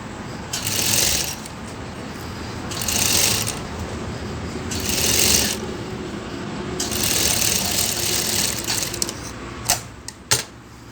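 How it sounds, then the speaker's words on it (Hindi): Sewing machine stitching piping on a blouse, several short bursts of rapid rattling separated by pauses, close and clear, ending with a few light clicks and taps. "फिर इसको हम पक्का करेंगे, ऐसा फाइनल सिलाई हो जाएगी"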